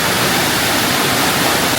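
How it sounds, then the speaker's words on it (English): A waterfall on a hiking trail near Chiang Mai pours in a steady, loud, dense rush of water, constant and unbroken throughout. "I don't know if you can hear me over the waterfall."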